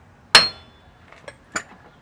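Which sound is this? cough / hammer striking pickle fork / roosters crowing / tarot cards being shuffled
hammer striking pickle fork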